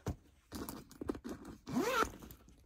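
A zipper on top of a handbag is pulled open in several short, close scratchy bursts, ending in one longer rising zip.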